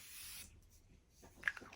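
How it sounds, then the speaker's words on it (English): A makeup setting spray pumped from a spray bottle gives a soft, close hiss lasting about half a second, followed by quieter handling rustles. "you can use this as a setting spray and you can use this as a priming spray"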